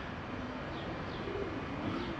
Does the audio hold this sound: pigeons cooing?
yes